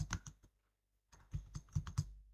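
Short bursts of computer keyboard typing while entering text into an Excel spreadsheet, a few close, soft key taps, then a brief pause, then another quick run of keystrokes.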